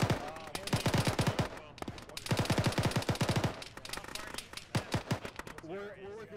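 Bursts of automatic gunfire and bullet impacts in an Arma ShackTac military game session, rapid clustered shots in several volleys, mixed with players talking over them.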